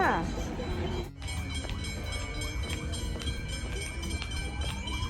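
A Melbourne train rumbles along with steady low mechanical noise and rail clatter, close by, with sharp clicks and squeals scattered throughout.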